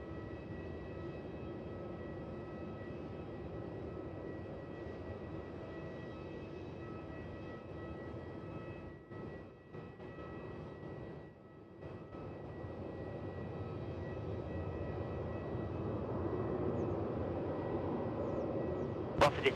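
Airliner of Air India taking off from runway 16 at Melbourne Airport, a steady broad engine roar heard from a distance that holds throughout and swells slightly toward the end, with no voices.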